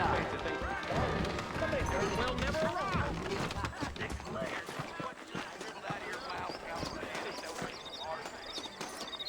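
Saddled horses clip-clop steadily along a trail in the Red Dead Redemption video game, the hoofbeats running beneath continuous dialogue between characters and background game sound.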